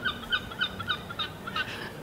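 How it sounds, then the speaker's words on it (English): Loud birds calling outdoors in a garden planted with autumn vegetables, a rapid series of repeated bright chirps and squawks that sound steadily and close. "If it's not really quiet, it's really loud with the birds."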